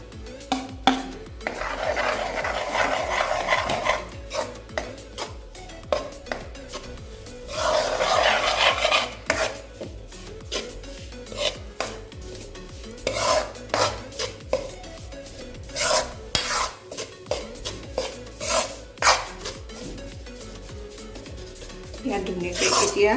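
Gram flour roasting in ghee is stirred in a pan, giving repeated close scraping and rubbing strokes in uneven rhythm, some longer grinding passes and many short scrapes.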